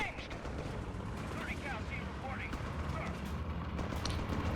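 Artillery barrage in the video game Company of Heroes 3: dense, continuous rumbling blasts and crackling fire rolling steadily throughout, with scattered whistling and overlapping explosions, loud and unbroken.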